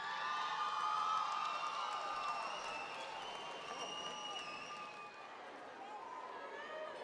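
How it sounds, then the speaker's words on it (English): Crowd applause at a Hamilton High School commencement ceremony for the class of 2013, heard from a distance as a steady wash of clapping with scattered cheers and whoops beneath a speaking voice. "A round of applause for the class of 2013."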